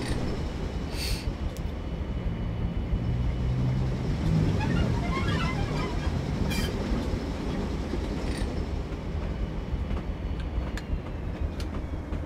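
Class 47 diesel locomotive running in Train Simulator 2019, a steady rumbling diesel drone with clickety-clack and faint wheel squeal, continuous and moderately loud throughout.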